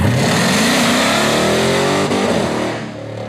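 A 707 hp Hellcat engine in a 1968 Dodge Charger revs hard and loud during a burnout, its pitch climbing steadily toward the rev limiter before easing off near the end.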